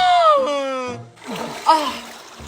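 Water splashing as people bathe in a cool river, a couple of sloshing bursts around voices, with a person speaking loudly over it at close range.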